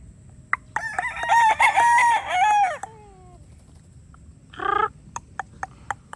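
A Sweater gamefowl rooster on a farm in Maragondon gives one loud, drawn-out crow close by. A brief cluck follows, along with scattered clicks and taps.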